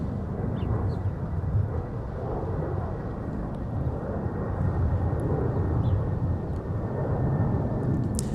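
Delta Airbus A321 departing Minneapolis–St. Paul, its engines a steady, broad jet roar held at even loudness throughout, distant and uninterrupted, with no voices.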